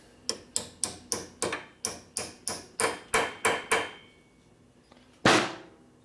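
About a dozen evenly spaced hammer strikes ring on metal in a workshop during a 1957 Harley panhead drag bike build. After a short pause comes one louder final blow, close and without talk.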